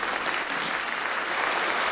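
Applause fills the hall at the Nobel Peace Prize ceremony in Oslo honouring Dominique Pire, a dense steady wash of clapping that holds at full strength throughout, with no voices over it.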